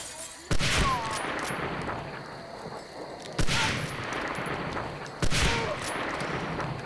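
Gunfire in the World War II shooter game Medal of Honor Frontline, a steady crackle of rifle and machine-gun fire with three sharp, loud bursts spaced a few seconds apart.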